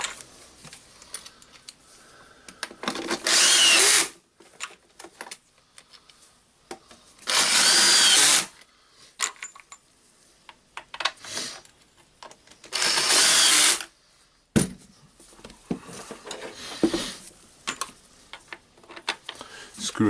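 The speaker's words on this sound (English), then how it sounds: "Screwing back the handle screws." A power screwdriver drives handle screws back into place in three separate bursts of about a second each, with quieter handling clatter between them.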